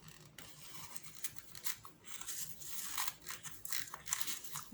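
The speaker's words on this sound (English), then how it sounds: "I'm just gonna cut these in half" Scissors snipping through yarn being cut in half for a pampas grass craft, a run of close, crisp cutting and rustling strokes over a few seconds with no talking.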